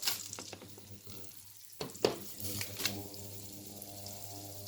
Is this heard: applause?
no